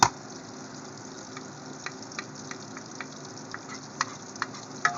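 Garlic for a shrimp dish sizzles steadily in a hot pan, a soft continuous frying hiss punctuated by several small pops and ticks, close and without talk.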